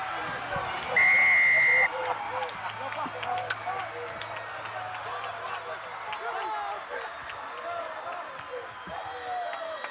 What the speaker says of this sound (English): The crowd is on their feet, and rightfully so.